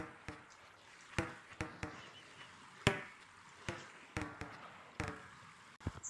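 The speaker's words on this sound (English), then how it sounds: "you can pretty much play soccer on land with the beach ball" Beach ball kicked around on land in the Gorilla Tag video game, a string of about a dozen sharp, hollow thumps and bounces at irregular intervals, close and fairly clear over a faint background hiss.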